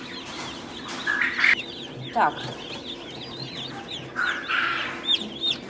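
Day-old broiler chicks cheep and peep in a group, high, bright chirps in scattered bursts close by, with a brief spoken word from a person in the background.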